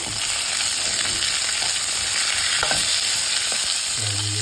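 Onion, curry leaves and capsicum fry in a pan for a Jaffna-style gar fish curry, giving a steady, dense sizzle close by with occasional scraping stirs and a low clunk near the end; no voices.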